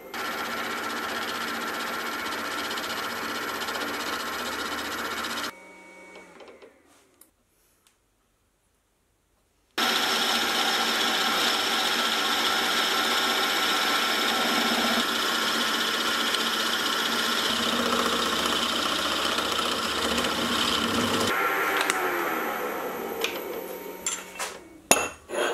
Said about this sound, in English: I'll finally use the boring head to take the hole to its final size and get a better surface finish